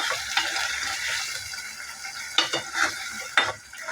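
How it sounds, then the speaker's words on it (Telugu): Blended tomato and onion are stirred in a pan, a wet bubbling sizzle broken by several sharp scrapes against the pan bottom, close and without speech. "ఇలా తిప్పుకుంటున్నాను ఇలా కలుపుకోవాలి అడుగు అంటకుండా"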